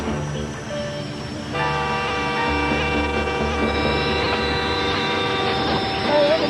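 A Conrail train with a wide snow plow on its front rumbles loudly and steadily along the railroad tracks, its continuous heavy roar holding close with faint metallic squeal on top.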